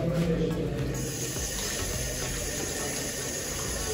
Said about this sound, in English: So I'm going to wash my hands.